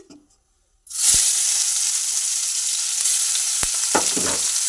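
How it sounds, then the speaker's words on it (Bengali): Sudden loud sizzle as singhi catfish drop into hot oil in a kadai, then a steady crackling fry continues, with a few sharp pops and utensil clinks. "তাহলে এখন মাছগুলো আমি কড়ার মধ্যে দিয়ে দিচ্ছি"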